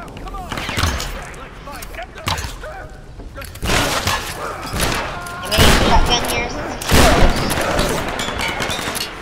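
Gunfire in Tomb Raider comes in loud, sharp bursts and volleys with shattering impacts, repeating several times, while voices talk under and between the shots.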